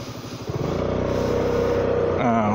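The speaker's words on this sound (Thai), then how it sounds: "เสียงคลัตช์ดังครับ" A Honda Forza 300 scooter making clutch noise, a close, steady engine drone with a rattling pulse that rises slightly in pitch toward the end.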